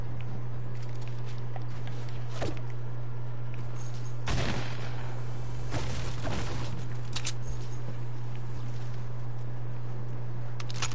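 Shooter video game gunfire cracks out in several scattered sharp shots, including sniper fire, over a constant low electrical hum.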